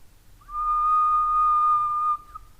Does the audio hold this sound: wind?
no